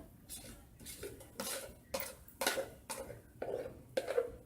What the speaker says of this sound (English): we're just going to combine the whipped cream that we made earlier with our espresso cream cheese